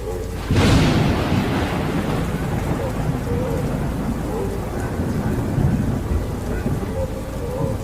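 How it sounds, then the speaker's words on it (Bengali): A loud thunderclap crashes early and rumbles on under heavy, steady rain in a Bengali horror audio drama, with the rain hiss staying dense and close to the end. "আবার একটা বাজ পড়ল বিকট শব্দে"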